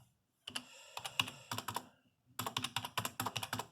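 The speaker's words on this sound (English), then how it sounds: "just type in all the numbers" Rapid keystrokes on a computer keyboard while numbers are entered into electronic health record software, coming in two close, crisp bursts of typing separated by a short pause.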